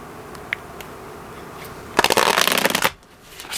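Tarot cards are shuffled in one dense riffling burst of about a second, loud and close, following a quiet room with a few faint ticks.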